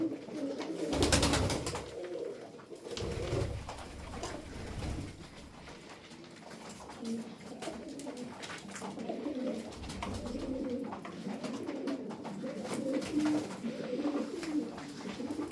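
Pigeons coo repeatedly and close by, soft throaty calls overlapping with some wing flutters and rustling, no talking.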